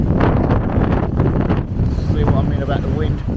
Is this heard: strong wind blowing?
yes